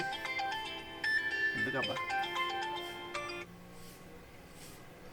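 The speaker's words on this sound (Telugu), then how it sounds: "మా మామ ఫోన్ చేస్తుండేంది" A phone rings with an incoming call, its melodic ringtone playing as a run of clear electronic tones for a few seconds before stopping. A voice speaks briefly over the ring.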